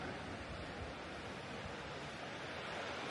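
Rushing river water flows in a steady, full roar that never lets up, a broad wash of sound fairly close, in Goris, Armenia.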